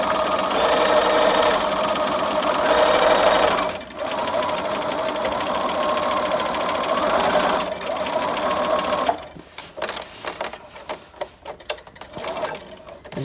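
A sewing machine stitches an apron, a fast continuous mechanical whir and clatter running loud for several seconds, pausing briefly, then resuming before giving way to scattered clicks and handling noises near the end.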